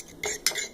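A spoon stirs a slime mixture in a bowl, giving two short, close scraping swishes separated by a brief pause, with no voices.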